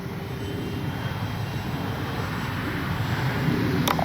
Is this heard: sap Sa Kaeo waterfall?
no